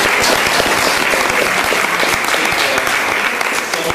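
Loud, close audience applause in a town council chamber during a book presentation, dense continuous clapping from many hands with no talk over it.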